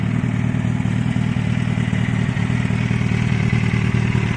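A four-cylinder inline, 20-valve roadster motorcycle rated around 150 hp, fitted with a Road Italia exhaust, runs at a steady, loud engine note. A dense low rumble with mechanical clatter holds unbroken throughout.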